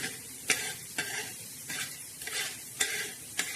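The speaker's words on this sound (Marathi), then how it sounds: "आता हे पण छान असे धने आपले भाजले आहे भाजत आहे" Coriander seeds are dry-roasted in a pan and stirred, giving about six brisk scraping sweeps spaced roughly half a second apart over a low rustle.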